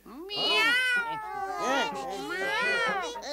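A cartoon puppy meows like a cat, a voice performer imitating a string of drawn-out, wavering meows, loud and close, one after another.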